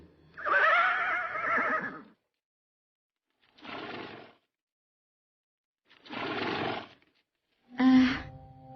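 A horse hitched to a cart neighs and snorts in separate bursts with silent gaps between them, the first a long loud whinny, the later ones shorter.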